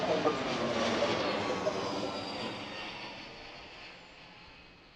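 An airliner departing Washington Reagan National Airport gives a broad jet roar with a faint whine, loud at first and fading steadily as it moves away.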